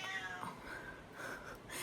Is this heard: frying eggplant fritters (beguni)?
no